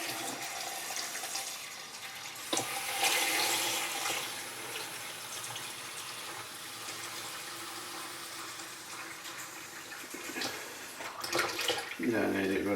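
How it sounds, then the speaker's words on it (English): Cold water trickling slowly from a tap into a sink as it fills, a soft, steady splashing stream with occasional louder gushes, heard faintly under someone talking. "all I'm doing is running cold water, just slowly, fill it up first"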